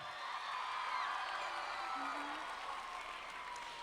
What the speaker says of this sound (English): Can we give one more round of applause for Joshua?